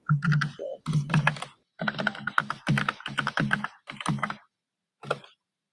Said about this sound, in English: I will type in the chat box.